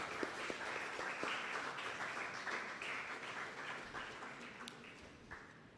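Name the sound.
audience applause welcoming a seminar speaker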